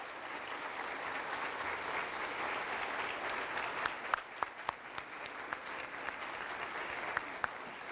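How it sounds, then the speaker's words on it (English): Steady audience applause fills a high school Hall of Fame award ceremony as a finalist trophy winner comes forward, with a few sharper claps standing out near the end. "please give a round of applause to Mr. Tanner Hill as he comes forward to accept his finalist trophy"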